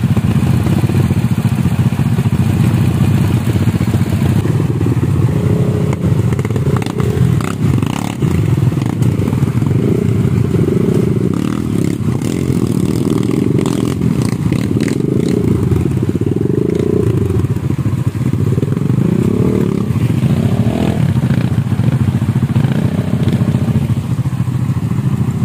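A motorcycle engine runs while partly submerged in a river, a loud, continuous low rumble with clattering and scraping, the revs rising and falling throughout, with no talking.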